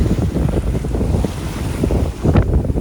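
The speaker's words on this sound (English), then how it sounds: "Well, so much for the wind dying shortly." Strong gusting wind roaring over the microphone aboard a yacht sailing off southern Tasmania near Southwest Cape, with constant rumbling buffeting and water wash, no voices.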